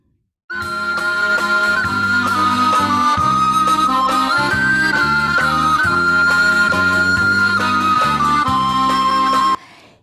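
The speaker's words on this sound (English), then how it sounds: "beautiful song, has a beautiful dance in a waltz rhythm" An instrumental Israeli dance tune in waltz rhythm with a lilting three-beat pulse, a bright sustained lead line over bouncing bass-and-chord accompaniment, steady and loud throughout.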